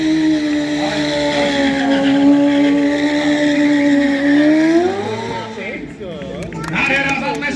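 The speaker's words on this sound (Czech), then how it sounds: "tak takovýto piskání, to jsou gumy" Motorcycle tyres squeal loudly and continuously during stunt riding at a motor festival, a sustained high whine that bends and wavers before cutting into shorter chirps, with a crowd and announcer audible underneath.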